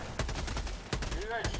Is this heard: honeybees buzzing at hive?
no